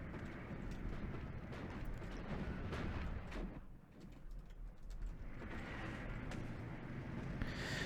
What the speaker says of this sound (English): He's using his artillery to effectively keep me from actually really pushing my infantry forward.